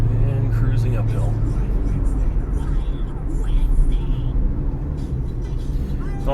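Car climbing a hill on a St. Maarten road, with a steady engine drone and road rumble throughout and someone talking over it.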